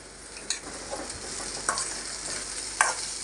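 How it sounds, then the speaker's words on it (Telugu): Chopped onions sauté gently in a pan for masala egg curry, giving a soft, steady sizzle with a few faint scraping stirs; quiet and close, with no talking. "ఉల్లిపాయలు మరి అంత ఫ్రై కాకుండా ఇలా మెత్తగా మగ్గించుకోవాలి."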